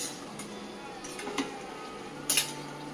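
Jackfruit curry ingredients are stirred and sautéed in a pot at home, with faint sizzling and a few soft metallic scrapes and clinks of a spoon against the pot, quiet throughout.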